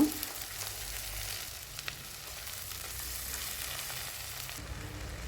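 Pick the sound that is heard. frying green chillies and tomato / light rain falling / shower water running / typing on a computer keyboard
frying green chillies and tomato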